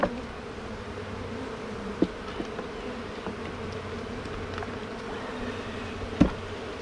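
Honeybees hum with a steady, close buzz while being moved from a loaded medium box into a new hive, with a couple of sharp knocks and bumps from handling the equipment. No one speaks.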